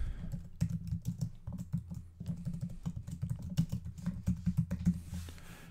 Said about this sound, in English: And now I can start typing.